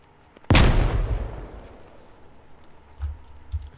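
A frag grenade goes off in a military video game: one loud, close blast with a deep rumbling tail that fades over about two seconds, followed by two fainter low thumps.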